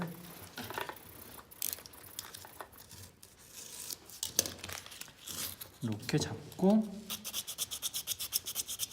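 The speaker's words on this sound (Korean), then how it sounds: "바깥쪽 표면도 사포질을 해줄 겁니다" Fingers rub 120-grit sandpaper against a handmade wooden ring in short, scratchy strokes, then settle into a quick rhythmic back-and-forth rasp, while a voice talks intermittently.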